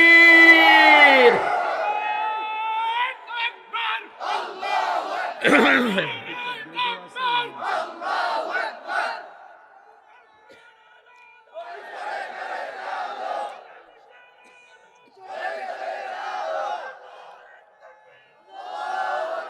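A large crowd at an outdoor Islamic sermon gathering shouts the takbir chant back in response, a loud voice starting it and the massed crowd answering in repeated rising roars separated by brief lulls.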